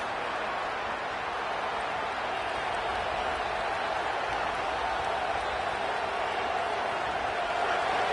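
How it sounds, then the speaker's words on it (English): A packed college football stadium crowd at Auburn vs Tennessee roars steadily as the home defense faces a first down in the red zone: a dense, unbroken wall of cheering that holds level throughout. "this crowd imploring its defense to stand firm"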